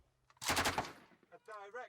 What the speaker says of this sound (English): Plus, with the machine guns and the little 51mm, they've got no chance of getting anywhere.